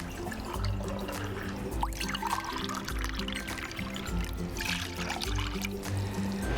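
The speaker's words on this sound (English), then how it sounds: "Then I'll be adding about 2 cups of water." Water pours steadily in a continuous stream into a pot, with a low rumble and a bright splashing wash throughout, nearby and moderately loud.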